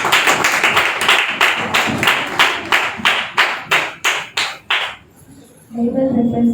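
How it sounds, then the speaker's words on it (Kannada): Rhythmic unison clapping from an audience at a church meeting, about a dozen evenly spaced claps in a steady beat that slowly weakens and stops, followed by a voice and faint ringing tones. "ಅವ್ರನ್ನ ಚಪ್ಪಾಳೆ ತಪ್ಪಿ ಸ್ವಾಗತ ಮಾಡಿ"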